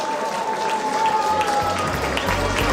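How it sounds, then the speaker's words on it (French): Sustained applause from a large audience, a dense wash of clapping with voices mixed in underneath. "Je vous demande d'applaudir ces gens-là."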